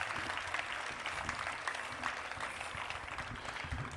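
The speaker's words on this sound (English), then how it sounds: "let's give a round of applause to Tara Gover" Applause for powwow dancer Tara Gover at a Mile High Powwow dance event, a fairly faint, steady spread of clapping from a distant crowd lasting a few seconds.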